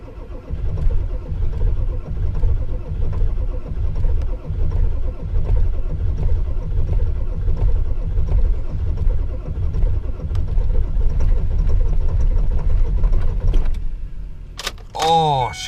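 A 7.3 diesel engine cranks over and over on a very cold, rough start, a loud, steady, low churning that keeps going without catching, then stops abruptly, followed by a few sharp electronic chimes.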